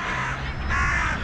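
Crows cawing in a loud, harsh, continuous burst that overlaps itself, close by, with no talk.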